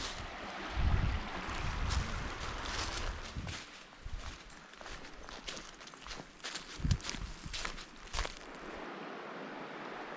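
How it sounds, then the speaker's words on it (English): Footsteps crunching along a forest hiking trail down toward a river, irregular steps near the microphone, with a faint steady background rush of flowing water. "I'm gonna walk down here and look at the river."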